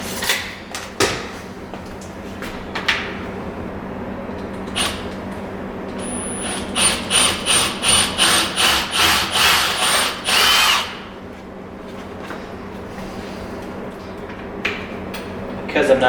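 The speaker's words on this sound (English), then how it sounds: "started with a finer bit just to get my hole nice and make sure I'm on the right place" A power drill with a fine bit bores a pilot hole for cabinet hardware, sounding as a series of about ten short, loud, rhythmic whirring bursts close by, then one longer burst, with quiet background and occasional handling knocks.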